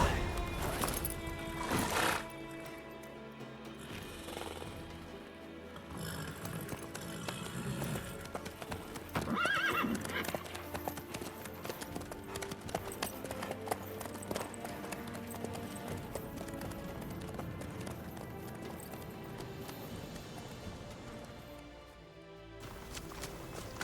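Horse hooves clip-clopping and a horse neighing in The Witcher 3 video game, a steady loud gallop with a whinny near the start, heard under game music and ambience.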